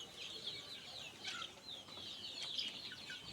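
Forty-day-old Australorp chickens on a poultry farm give soft, scattered clucks and chirps, faint and somewhat distant against a quiet background.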